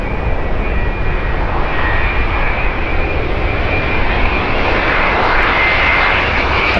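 A toy airplane gives off a steady, loud engine drone that holds without a break for about seven seconds, with no voices over it.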